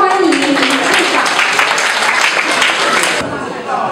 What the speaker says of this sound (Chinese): 掌声欢迎林处长